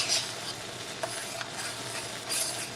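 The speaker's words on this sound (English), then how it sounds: "pour that back into the hot pudding. Take that all out of your bowl. And stir that back in" Egg mixture is stirred back into hot pudding for a cream pie, giving faint, soft swishing with a few light utensil taps in a quiet kitchen.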